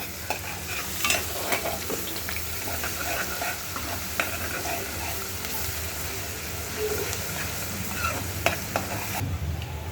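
Curry leaves go into a pan with a ground paste of garlic, ginger, chilli and coriander, sizzling continuously while a spoon stirs and scrapes at intervals, close and steady.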